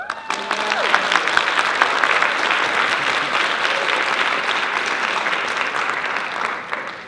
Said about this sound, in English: so please give a round of applause to Kylan and Bailey